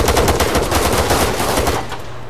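Rapid automatic gunfire in the Arma 3 Altis Life game, a dense loud burst of shots in quick succession that cuts off near the end, with no talk over it.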